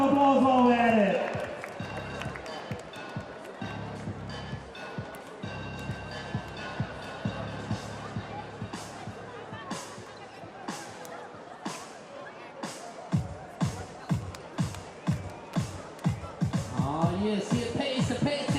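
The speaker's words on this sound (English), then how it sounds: "Give yourselves a round of applause while we're at it." Crowd at a FIBA 3x3 Asia Cup basketball event claps and cheers, with a crowd murmur in the background, then settles into rhythmic clapping that grows louder toward the end, while a voice talks over part of it.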